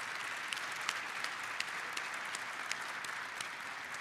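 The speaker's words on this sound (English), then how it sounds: "I'd like for everybody to give her one more round of applause." An audience applauds at an announcement event for Indianapolis hosting the 2021 NBA All-Star Game, with steady, moderately distant clapping from a crowd that continues throughout at an even level.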